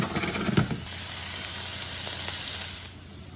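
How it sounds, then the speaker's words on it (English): Onions hit a very hot pan of olive oil and sizzle steadily with a broad, bright hiss, close and fairly loud, easing off toward the end. "you want it pretty hot whenever you first throw your onions in there"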